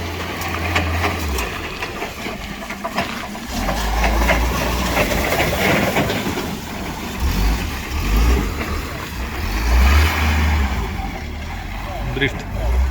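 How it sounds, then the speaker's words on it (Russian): A car drifting on a road, its engine giving a low, surging rumble that swells and fades over several seconds under people talking nearby, with a continuous hiss of road noise throughout. "Дрифт."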